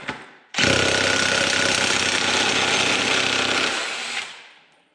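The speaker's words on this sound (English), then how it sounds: "now we're gonna remove our axle nut" A loud, sustained pneumatic impact wrench rattles off the axle nut on a Honda Rancher ATV, hammering steadily for about three and a half seconds before winding down.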